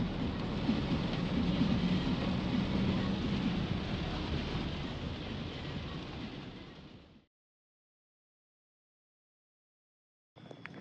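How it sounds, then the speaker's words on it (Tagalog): Heavy rain pours in La Trinidad near Baguio City with deep rumbling thunder underneath, a loud, steady downpour that fades out abruptly partway through, followed by silence and a short return. "Pagdating dito umulan din, mas malakas."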